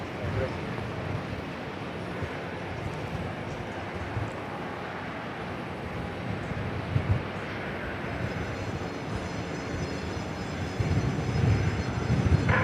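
A Southwest Airlines jet departs Dallas Love Field, its engine roar steady and broadband, swelling somewhat louder toward the end, with voices and radio-style talk intermittently over it.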